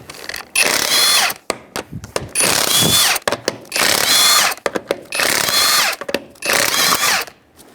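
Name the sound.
power tool removing wheel lug nuts with 19mm socket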